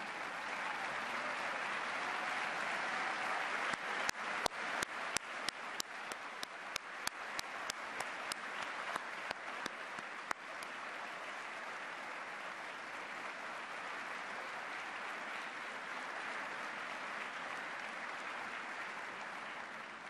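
An audience at a brunch for basketball legends applauds former NBA and ABA players as they stand, and the steady clapping swells to a peak with a few sharp individual claps before it gently fades.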